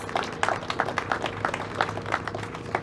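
Scattered applause from an audience at the grand opening of the Borough of Hanover Public Administration Facility, a small group clapping steadily and fairly near for a few seconds with no voices over it.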